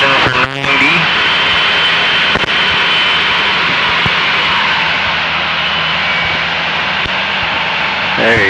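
Light aircraft engine droning steadily at reduced 1500 RPM power during landing practice in the traffic pattern, loud and continuous throughout with brief radio-like interruptions.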